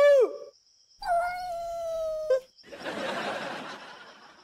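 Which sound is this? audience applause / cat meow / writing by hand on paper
cat meow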